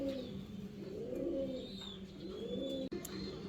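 Pigeons of the Lahori Sherazi breed, silver colored, at a breeder's farm, give soft repeated rolling coos, one near bird cooing steadily over a faint background hum with a brief click near the end.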